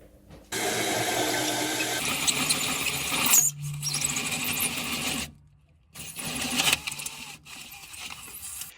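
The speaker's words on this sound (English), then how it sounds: "I've got my little multi-tool, and I'm just cutting that out right now" An oscillating multi-tool buzzes loudly as it cuts a hole through a van floor, a steady, harsh whine that stops briefly twice before starting again.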